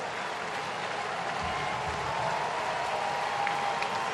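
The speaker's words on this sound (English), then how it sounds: "So big cheer for Jordan Schaefer" Steady broad crowd roar and cheering at a New York Mets at Atlanta Braves baseball game, a continuous stadium wash of noise at even loudness throughout with no clear talk.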